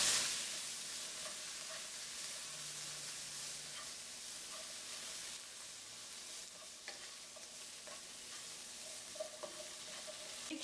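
Bitter gourd and potato subzi is stirred in a pan with the salt, a steady sizzle of frying under repeated scraping and mixing strokes, close and continuous with no voices.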